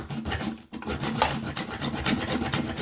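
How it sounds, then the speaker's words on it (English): Hacksaw cutting through a shotgun-style M4 magazine in a close, loud run of rasping strokes that repeats with a steady rhythm and one brief pause, with no talk. "So again, just the hacksaw. Try and cut, it doesn't matter if you don't cut it straight."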